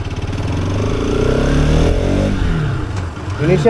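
A 2025 Bajaj RS200 motorcycle pulls away in first gear from close by: the engine's throaty exhaust note climbs under throttle, eases briefly, then rises again.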